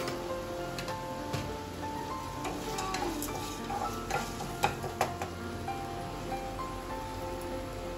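Onions sautéed and stirred in a pan for a Tamil mutton curry, with a steady sizzle of frying under irregular spoon scrapes and taps against the pan, close and continuous without any talk.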